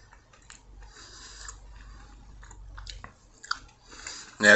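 Close, fairly quiet biting and chewing on a whole Hot Dynamite green chile strip, with soft wet crunches and squishy mouth sounds over several seconds, ending in a louder burst.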